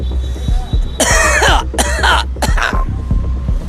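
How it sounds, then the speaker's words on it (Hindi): A man coughs three times in quick, harsh, close bursts over a low background rumble, demonstrating the effect of heavy air pollution in Jharia's coal-mining area. "जैसे मैं खांस रहा हूँ उसी तरह से आप भी खांसोगे।"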